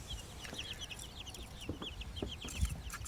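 Cornish cross chickens cluck softly at breakfast, with quick chirps and peeps repeating through the flock. The sound is faint and close, with a few light pecks and thumps underneath.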